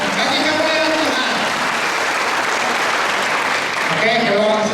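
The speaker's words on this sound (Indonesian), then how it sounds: "Jadi besok tepuk tangan bagi kemuliaan Tuhan." Loud congregation applause during an Easter church service in Long Bemang, continuous clapping with voices and cheers mixed through it, steady throughout.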